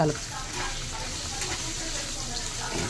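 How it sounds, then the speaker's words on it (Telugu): Asafoetida (hing) sizzles in hot oil while making an ivy gourd (dondakaaya) pickle, a steady close, bright hiss of frying that runs evenly throughout with no talk. "నెక్స్ట్ ఇంగువ వేసేసుకోవాలి"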